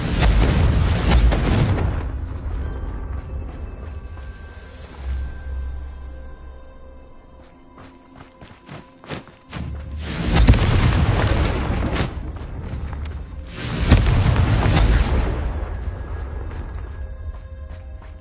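Fire-curse explosion spell cast in the Hogwarts Legacy video game: three loud, broadband booming blasts, each followed by a rumbling decay, with quieter crackling and tonal game effects in the gaps between them.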